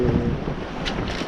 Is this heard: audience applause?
no